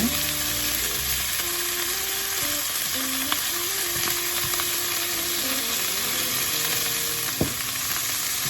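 Scallops searing in a hot frying pan, a dense, even sizzle running throughout at close range with a couple of faint clicks, and a tonal hum underneath, no talking.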